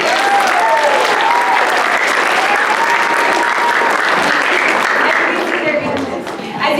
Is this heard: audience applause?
yes